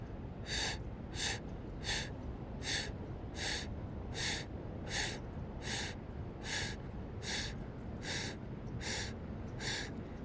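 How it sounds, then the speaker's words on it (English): Breath of fire yoga breathing: a regular series of about thirteen sharp, forceful nasal exhales, evenly spaced and close, over a steady low background hum. "And let's do breath of fire."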